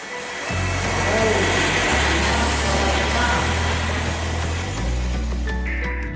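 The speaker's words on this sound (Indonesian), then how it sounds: "Ada pesawat." Animated airplane engine, a steady loud droning hum with low tonal rumble that holds throughout, shifting pitch slightly in stages.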